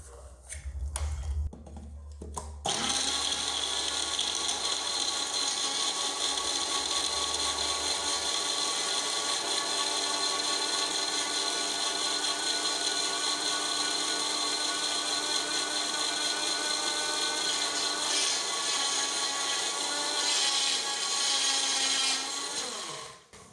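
A blender grinding soaked dates into a smooth paste, starting with a few clunks before the motor kicks in as a loud, steady whirring roar that holds for about twenty seconds, then winds down.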